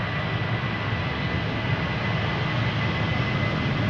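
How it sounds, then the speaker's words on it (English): A KLM Boeing 737-800, thirteen years old, sits at Amsterdam Schiphol with its APU or engines producing a steady, moderately quiet jet hum and whine, continuous and even throughout, without talk. "This is KLM flight 1219 to Stockholm, 737-800."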